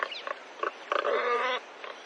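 Warthogs give a string of short, nasal grunts and squeals, then one longer drawn-out squeal, fairly faint and at moderate distance, with no voices.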